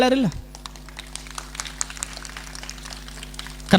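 Audience at a religious discourse by a revered swami clapping scattered and crisp through the middle, between a speaking voice at the start and end.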